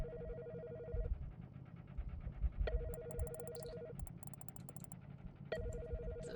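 A telephone rings in the video game InKonBini, with three electronic bursts of ring tone separated by short pauses, set over a steady low background hum and clearly audible.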